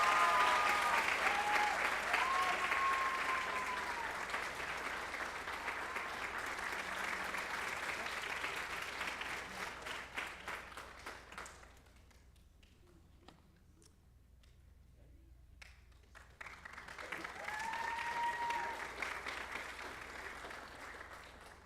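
Applause from the audience at a high school Class Day awards ceremony, a steady broad patter of many hands with a few voices calling out, thinning briefly before swelling again toward the end.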